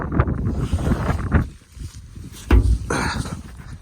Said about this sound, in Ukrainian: Ну, Вітер сьогодні капець.